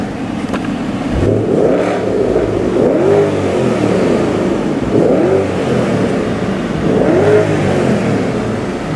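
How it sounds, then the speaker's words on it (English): A Porsche Panamera Turbo engine revs up in neutral and settles back repeatedly to a steady idle, roughly four rising surges spaced a couple of seconds apart, loud and close. "I'll put the car in neutral and I'll rev it up a little bit."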